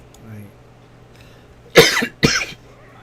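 Two sharp coughs in quick succession, close and loud, after a brief murmur of voice against quiet background hum.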